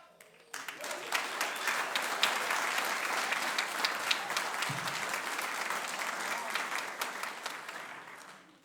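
Concert audience at a spring band concert gives steady, full applause for the seniors, a dense wash of clapping that starts abruptly, holds level for several seconds and fades at the close.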